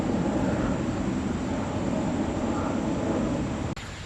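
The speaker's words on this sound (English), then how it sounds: "Quick pause for cool Air Force jet." An Air Force military jet roars overhead, a steady loud broadband rumble that holds throughout before a brief click near the end.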